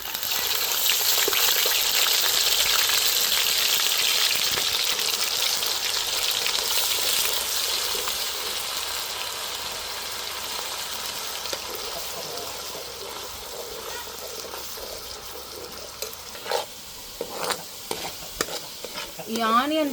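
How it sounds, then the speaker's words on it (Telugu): Onion paste sizzles loudly in hot oil while being stirred in a pan, a steady bright frying hiss that slowly eases, with scraping stirs and a few clinks near the end. "నూనె బాగా కాగిన తర్వాత ఎర్రగడ్డ పేస్ట్ వేస్తున్నానండి."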